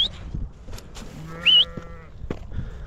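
A single short bleat rises briefly amid quiet shuffling and scattered small knocks, like sheep moving about in a pen.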